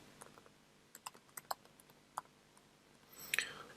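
Light, quiet keystrokes on a computer keyboard, scattered single taps at an irregular pace, followed by a brief faster flurry of clicks at the end.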